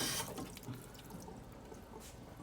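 Water from a tap runs quietly onto a rag with a soft, steady trickle and a few faint splashes. The sound is low in level and heard close by.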